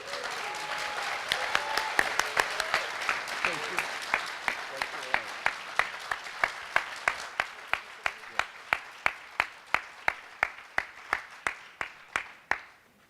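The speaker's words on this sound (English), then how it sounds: "I would like another round of applause for the courage of this woman" An audience gives a round of applause at a talk about the Phoenix Lights, dense clapping at first that thins into slower, separate claps as it dies away over about thirteen seconds.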